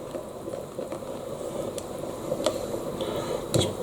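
Softened pot noodles are stirred in their pot, giving a continuous close wet squishing and sloshing with a few sharper scrapes and clicks, rising briefly near the end.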